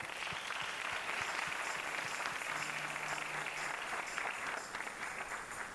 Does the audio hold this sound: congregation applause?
yes